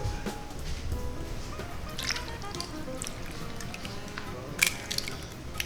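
Half and half pours into a pumpkin pie mixture in a home kitchen, a steady soft liquid trickle and squishing that runs throughout, with a brief louder splash near the end.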